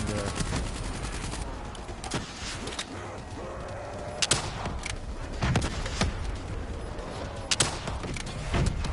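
Gunfire rattles in the Black Ops 3 Nightmares campaign, sharp bursts and single cracks spread across a few seconds amid faint mechanical creaks.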